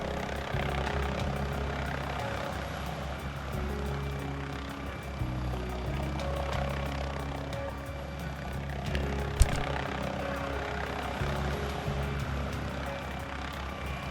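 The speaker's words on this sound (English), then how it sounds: "Oh, I hear the helicopter." A helicopter's rotor in the video game Recon Control thumps in a steady low, pulsing drone, holding a constant level for the whole stretch with one brief sharp click partway.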